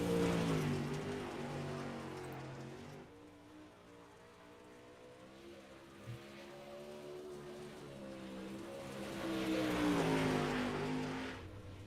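A dirt modified race car runs a lap around the Bristol Motor Speedway dirt track, its engine droning steadily and rising and falling in pitch through the turns before swelling louder near the end.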